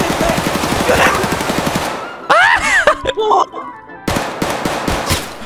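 Rapid automatic gunfire in Escape from Tarkov rattles out in a sustained burst, pauses while voices speak over the game, then resumes in another fast, loud volley.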